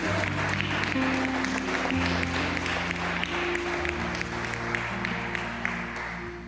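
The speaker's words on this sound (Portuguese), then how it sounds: "Dá uma salva de palmas para Jesus" Congregation applauding for Jesus at a Portuguese-language evangelical church service, a steady dense wash of clapping over sustained organ or keyboard chords, with faint voices mixed in.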